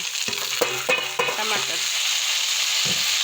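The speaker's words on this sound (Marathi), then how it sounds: "तर आता मी घालत आहे भेंडे" Okra hits a hot pan for bhindi and tomato curry, with a few clattering stirs of the spoon up front, then steady loud sizzling frying that continues alone.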